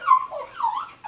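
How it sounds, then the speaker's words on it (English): A dog whines and whimpers excitedly indoors in a short burst of high, wavering cries that rise and fall, fairly close and alone without talk. "One of my dogs is going crazy."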